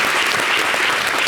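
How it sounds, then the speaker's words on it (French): A studio audience applauds the participants on a French local TV show, a steady close burst of clapping with no break. "On va applaudir nos participants."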